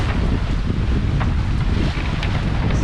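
Strong, gusty wind buffeting the microphone aboard a catamaran sailing into a norther on the Sea of Cortez, a loud, constant roar mixed with sea and boat noise.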